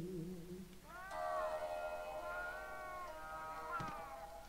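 A cat in Monster Hunter Rise: Sunbreak gives one long, drawn-out meow lasting a few seconds, loud and close, over faint game ambience.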